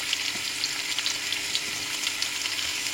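Chopped tomato and onion fry in a hot pan, a dense, even sizzle with small crackling pops, close and steady, no voices.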